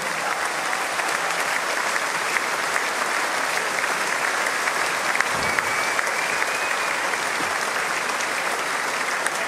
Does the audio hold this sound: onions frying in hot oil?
no